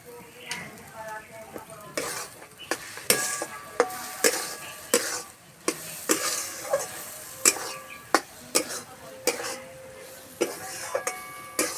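Leftover rice and egg white being stirred in a pan over medium heat, with a steady sizzle under repeated sharp scrapes and clinks of a spatula against the pan, close and fairly loud.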